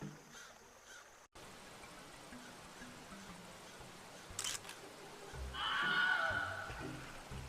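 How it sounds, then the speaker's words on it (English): Rushing water from a waterfall in The Night of the Rabbit adventure game, a steady broadband wash that swells louder toward the end, with brief clicks and a sharp burst mid-way. "watch out for the waterfall"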